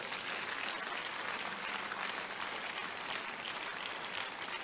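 A church congregation claps loudly and continuously, a dense, sustained wash of applause with no pauses.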